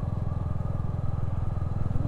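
Royal Enfield Hunter 350 riding along Warwickshire and Worcestershire roads, its single-cylinder engine giving a loud, steady low thump at even cruising pace, with wind rush over the top and no talking.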